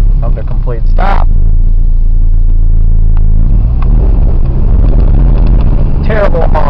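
A car engine drones loudly in second gear with no first gear available, rough and noisy, rising and falling with brief bursts of wind-like noise at the start and end.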